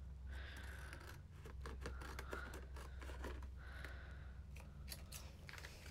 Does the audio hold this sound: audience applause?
no